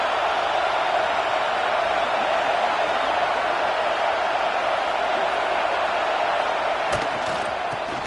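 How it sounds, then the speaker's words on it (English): Football stadium crowd at a college game roars in a continuous, dense wash of cheering and noise, steady and loud for the whole stretch as the home defense tries for a stop. "this crowd coming to life here, trying to help the defense get a stop with the offense pinned back"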